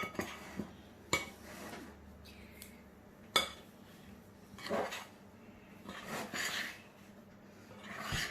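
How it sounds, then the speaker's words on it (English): Pasta bake mixture stirred in a bowl, quiet scraping and rubbing punctuated by a few sharp clinks of a spoon against the dish, intermittent and close, with no one speaking. "So just giving it a really good stir and keeping it all together."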